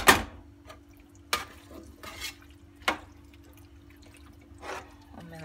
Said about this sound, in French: on mélange bien avec la viande